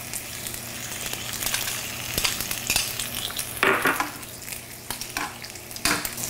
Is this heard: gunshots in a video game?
no